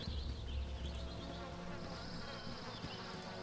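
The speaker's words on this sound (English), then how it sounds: "I hear flies buzzing about." Flies buzzing in Baldur's Gate Enhanced Edition near a cave in the Cloakwood, a steady close insect drone with wavering pitch running throughout, alone without talk.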